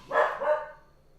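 A single close dog bark, a short two-part woof that fades quickly, heard alone.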